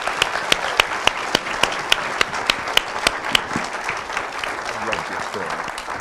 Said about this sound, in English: how about a big round of applause for our whole panel?